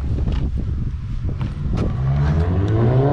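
A Volkswagen Golf 6 GTI Red Bull Edition drives past in a tunnel, its engine building from a rumble into a loud rising rev, with a few scuffs and knocks nearby and no talk.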